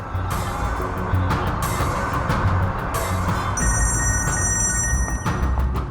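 A telephone bell rings repeatedly and goes unanswered indoors, the rings steady in rhythm beneath a continuous low background hum, with a bright electronic tone joining partway through.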